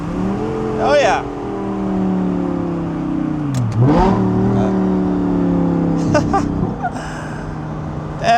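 Audi R8 V10 with a gated manual and valvetronic exhaust revving hard, loud and close, with rising and falling harmonic engine tones that climb to a high-rpm wail, a brief dip midway, and short voices breaking in.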